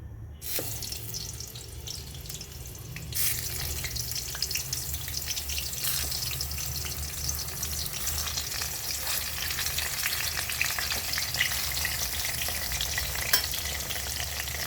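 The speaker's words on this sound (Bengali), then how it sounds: "তাহলে দেখো আমি বেগুনটা ভাজছি।" Brinjal slices fry in oil in a home kitchen with a steady close sizzle and crackle, accompanied by occasional stirring and utensil scrapes, running continuously with no speech.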